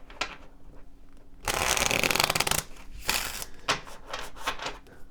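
Tarot cards shuffled by hand: a dense, loud riffling burst lasting about a second in the middle, with quieter card handling and rustling before and after. No talking.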